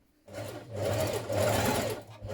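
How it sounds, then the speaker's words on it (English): A sewing machine stay stitches the side edge of a dress bodice back for a Vogue 9075 pattern, 1.3 cm from the raw edge, a steady close whirring run that starts after a brief pause and continues throughout, with no talk. "Now we're going to stay stitch the side edge of the bodice back."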